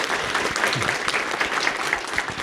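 Steady applause from a crowd at a school signing day ceremony, many hands clapping together in a continuous patter, moderately loud and sustained throughout.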